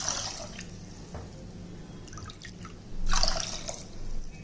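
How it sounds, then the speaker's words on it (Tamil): Water is poured from a cup into a cooking pot of horse gram, giving a soft, faint trickle and splash that swells briefly near the end. "இப்போ அதே கப்பில் இப்போ 2 கப்பு தண்ணி ஊற்றிக்கிடுவோம்."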